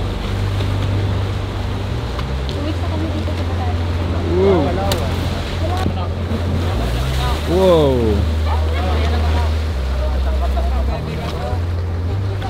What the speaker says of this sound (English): The boat should be here within 20 minutes. Oh! That is one bumpy run.